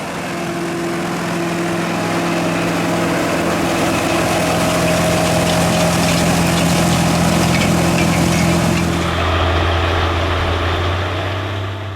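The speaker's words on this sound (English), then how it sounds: "listen to that IH DV800 growl as it pulled a Great Plains turbo hill" An International Harvester DV800 tractor engine drones deep and steady while pulling a Great Plains Turbo-Till, loud and close, with a low constant growl that drops to a lower hum near the end.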